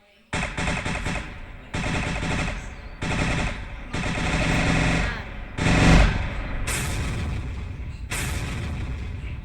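A weapon firing in the Roblox game Build a Boat, loud bursts of rapid gunfire in repeated volleys with short gaps between them.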